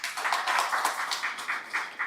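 A round of applause from the audience at a regional conference for the Duke of Edinburgh's International Award Foundation, a light and somewhat sparse clapping that rises and falls in short swells.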